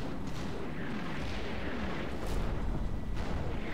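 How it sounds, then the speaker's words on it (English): Artillery fire pounds down in a war video game as a dense, continuous rumble of booms with heavier bursts near the end. "I like the artillery pounding down."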